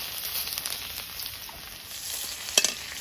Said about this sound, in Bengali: কড়াইতে তেল দিয়ে দিচ্ছি তেলের মধ্যে দেব গোটা গোটা জিরে থেতো করা রসুন